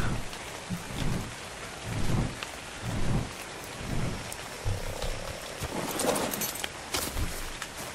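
Steady rain pours in ARK: Survival Evolved, with low thunder rumbles rolling in at regular intervals beneath the constant hiss of the downpour and no voices.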